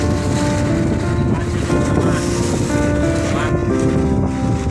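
Strong wind roars and buffets against the microphone nonstop on a loaded boat in high waves at sea, with muffled voices and engine-like hum beneath it.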